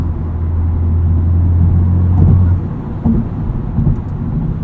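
A 2020 Honda Civic Type R pulls hard out of corners, its engine a steady loud drone from inside the cabin that cuts off abruptly partway through, then resumes with rougher, uneven rumbling.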